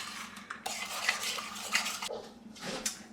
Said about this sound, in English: we're going to mix this around